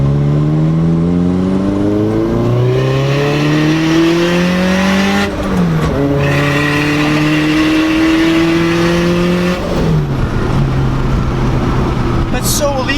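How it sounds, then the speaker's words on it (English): A turbocharged FRS car revs hard through several rising gear pulls, loud and close, its engine note climbing steadily and then dropping at each shift, with a fluttering stutter on lift-off and voices talking over it. "Just the turbo stutter is just unreal."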